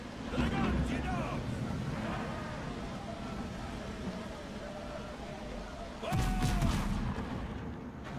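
Ship cannons firing aboard a pirate vessel in the survival game Windrose, booming shots under a rumble of sea and wind, with a loud blast near the end.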